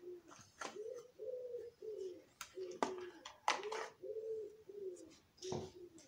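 Pigeon cooing in a repeated series of soft, throaty coos at a steady rhythm, close by and fairly quiet, with a few brief rustles between calls.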